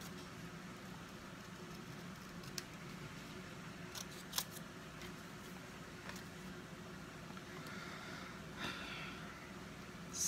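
Scissors cut a paper lid out of cardstock for a Stampin' Up coffee-themed craft. Faint, close snips come at irregular intervals over a quiet background hiss.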